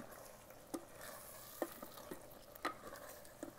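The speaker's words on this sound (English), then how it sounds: "Mix well" Tilapia fish being mixed into gravy in an Instant Pot, with a few distinct scraping and knocking strokes of a spoon over a quiet, faint background simmer.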